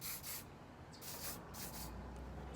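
Hair spray from an aerosol can misted over the top of the hair during a makeup and hair routine, a few short hissing bursts, close and fairly soft, with quiet rustling between them.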